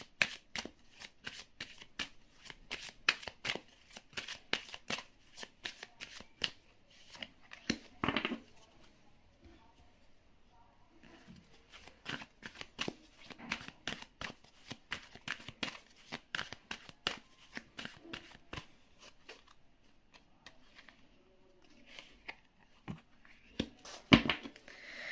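Tarot cards being shuffled and handled by hand, a steady run of close, crisp riffling and flicking bursts with a quieter pause midway, then more rapid card handling and a sharp slap near the end.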